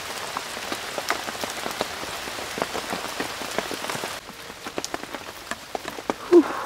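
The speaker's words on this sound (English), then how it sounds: "when the rain's torrential" Torrential rain pelts down outdoors at a woodland camp, a dense, steady patter of drops striking surfaces close by, with sharper individual splats throughout and no talking.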